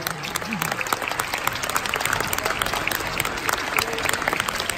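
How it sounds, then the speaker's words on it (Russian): Audience applause at a professional ballroom dance competition, the Minsk Open Grand Prix foxtrot final, with steady sustained clapping from a large crowd filling the hall for the whole stretch. "Аплодисменты болельщикам."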